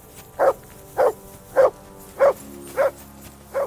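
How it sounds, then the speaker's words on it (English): A dog in the video game Kingdom Come Deliverance 2 barks six times at an even, regular pace, each bark short, close and clear over quiet background. "I assume you can hear that damn dog of yours barking."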